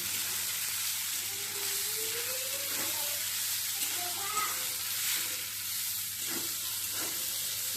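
Hot tempering oil for a Maharashtrian ridge gourd dish keeps up a steady, close sizzling hiss as ingredients go in with curry leaves, with faint clinks and stirring over the continuous crackle.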